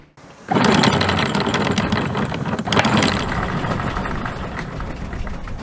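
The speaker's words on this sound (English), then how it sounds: "Can I turn the engine off?" A boat engine idles steadily at an anchorage, a close, continuous mid-pitched chugging that starts abruptly after a brief quiet moment and holds at an even level throughout.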